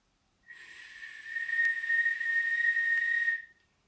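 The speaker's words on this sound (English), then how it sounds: "Whistle for your drink." A single sustained, clear whistled note from a person, held for about three seconds, loud and close, starting and stopping cleanly with no talk around it.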